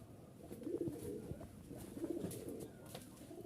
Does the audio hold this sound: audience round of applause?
no